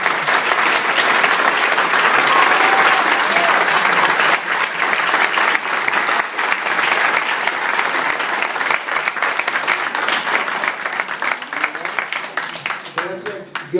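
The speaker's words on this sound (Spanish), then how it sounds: "Damos un aplauso" Sustained audience applause from a crowd at a lecture event, loud and dense, continuing steadily for many seconds and gradually thinning toward the end.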